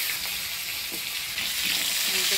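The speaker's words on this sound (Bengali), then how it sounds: "আলুটা একটু ফোড়নের তেলে নাড়াচাড়া করে নিলাম।" Potatoes fry and get stirred in hot oil tempered with nigella seeds for a Bengali village fish curry, a close steady sizzle with soft scraping stirs.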